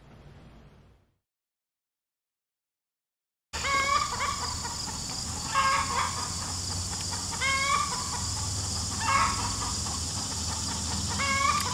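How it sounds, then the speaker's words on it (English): A young rooster attempts to crow, producing several short, strained, broken crowing calls amid clucking chickens nearby, after a brief quiet gap at the start. "I think it was a rooster trying to crow though."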